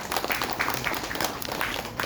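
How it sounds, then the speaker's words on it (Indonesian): A crowd at an Indonesian Adiwiyata school environmental award ceremony applauds in a dense, continuous patter of hand claps. The clapping is moderately loud and lasts for the whole clip. "Tepuk tangan."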